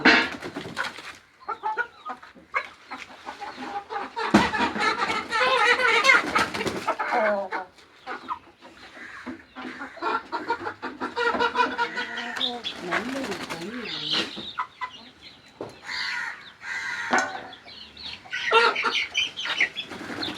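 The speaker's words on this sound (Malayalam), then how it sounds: "നമ്മൾ അഴിച്ചിടാത്ത കോഴികളാണ് കേട്ടോ" Chickens, hens and growing chicks, cluck and murmur nearby in a busy coop, with some higher chirps mixed in and a person talking now and then.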